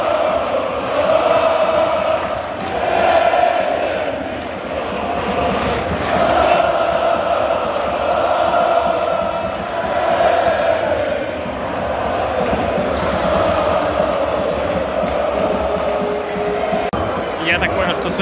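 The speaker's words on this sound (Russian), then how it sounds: "стадион расстроен, поэтому свист сейчас раздался очень громко" A football stadium crowd at a Željezničar match, loud and continuous with sustained whistling and roaring after a referee's yellow-card decision, swelling and easing over time, with a commentator's voice over it.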